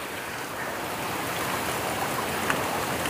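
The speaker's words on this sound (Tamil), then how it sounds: "இப்போ நாங்கள் வந்து இந்த பார்க் பண்ணுற கொஞ்சம் நேரத்துக்கு முன்னாடி தான் அந்த மழை கரெக்டாக ஸ்டார்ட் ஆச்சு" Rain falls on a houseboat in Alleppey, Kerala, as a steady, dense hiss of drops with no pauses. It is close and fairly loud throughout, with no voices.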